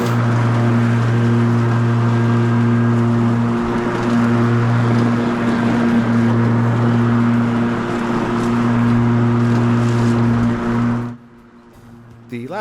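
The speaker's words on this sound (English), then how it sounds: "Let's cut some grass." Ryobi 48V electric riding lawnmower cutting grass on a large lawn, a loud steady motor hum with strong tonal whine and rumble that holds for about eleven seconds before dropping off abruptly, with no talking.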